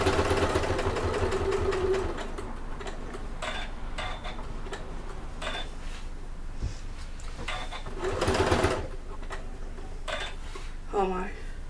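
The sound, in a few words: sewing machine top stitching a bag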